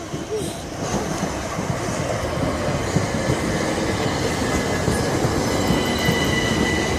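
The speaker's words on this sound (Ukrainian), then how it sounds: "Там є поїзд, дивіться на поїзд на." A train rolls past at close range, its steady rumble of wheels on rails carrying faint metallic squeals and a light clickety-clack throughout the whole stretch.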